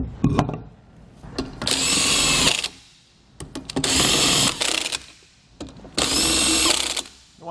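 A power tool runs in three bursts of about a second each as it drives lug nuts onto a trailer wheel with a Kenda 205/65-10 bias tire. Each whirring burst is loud and close, separated by short clicks and pauses.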